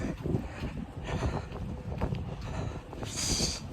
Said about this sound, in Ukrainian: плюс дуже сильний вітер